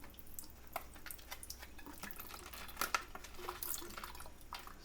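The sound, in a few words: water running through container in sink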